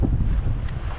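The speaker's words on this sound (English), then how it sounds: "We've got about 15 knots of wind, sometimes gusting a little bit more" Steady wind roars across the microphone aboard a sailboat in about 15 knots of wind with stronger gusts, flying a full Yankee and staysail; a continuous low rumble with no voices.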